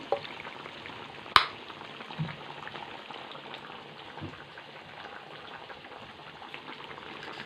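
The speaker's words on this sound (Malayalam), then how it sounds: "ചൂടായിരുന്നു കടുകിടുന്നു" Mustard seeds dropped into hot coconut oil for a mackerel curry tempering, crackling and popping steadily at close range with one sharp snap early on and no voices.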